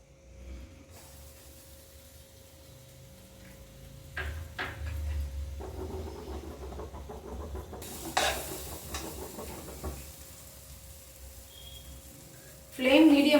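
Ground moong dal is sautéed with wheat flour in a pan over a medium flame for halwa, giving a soft sizzle with scraping stirs that grow busier midway, then a louder clatter at the end.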